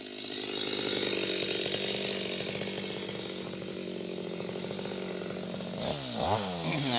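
A Stihl MS250 chainsaw cuts through sengon trees, its engine snarling steadily and loud for several seconds before revving and wavering in pitch near the end as the cut finishes.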